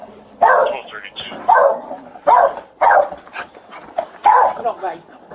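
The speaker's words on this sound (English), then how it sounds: "The dog been barking the whole time." A dog barks indoors in repeated loud, close bursts, about five sharp barks spaced roughly a second apart, with people talking around them.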